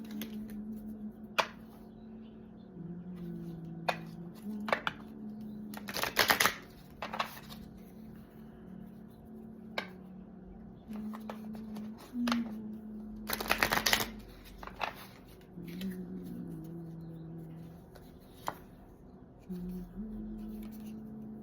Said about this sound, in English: I'm using the 3 different decks, and I'm shuffling them 3 times each before I draw out cards